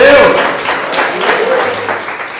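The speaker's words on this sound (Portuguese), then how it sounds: "Posso ouvir uma salva de palmas a esse que morreu por nós?" A church congregation claps during a sermon, a fairly loud wash of hands that fades gradually, with voices over it.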